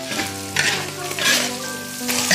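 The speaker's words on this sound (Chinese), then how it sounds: "把那肥的先炒一下" Fatty cured pork stir-fries in a wok, a loud close sizzle that swells in bursts as the meat is tossed and stirred, with no talking.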